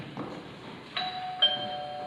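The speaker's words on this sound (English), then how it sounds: "Doorbell's ringing. Isn't that the doorbell?" A doorbell chimes twice during a stage performance of You Can't Take It With You, two clear ringing tones in quick succession that linger and fade, over quiet room noise.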